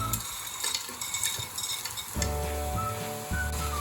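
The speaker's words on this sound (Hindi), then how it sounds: "और अब हम डालेंगे इसमें हमारी बड़ी" Fried vadi dumplings drop into a lauki curry masala and are stirred in a pan, with soft sizzling, scraping of a spoon and faint clinks close up, no voices.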